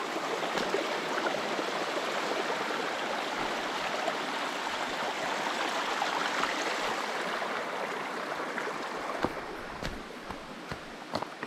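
Water flows at Anguthi Sunai falls in a steady, close rush with occasional small knocks near the end, and no talk over it.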